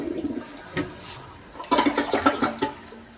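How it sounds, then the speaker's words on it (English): A Kohler 1-gallon toilet in a hotel suite bathroom flushes with a rushing, gurgling swirl of water, loud and close, building to a stronger surge near the end. "1-gallon flush toilet."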